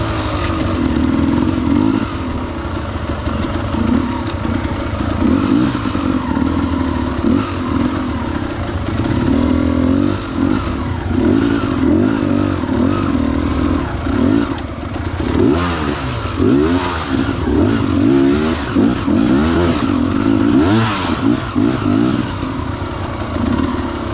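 Motorcycle engine labouring and revving continuously over a rocky trail, loud and close, with uneven surges, clattering and occasional thuds from the rough ground.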